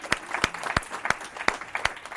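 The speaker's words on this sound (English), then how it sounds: "a big round of applause for the Origin team on the launch" An audience claps to close out a fintech fireside chat, the claps landing in a loose, uneven rhythm of sharp separate strikes rather than a full roar, moderately near.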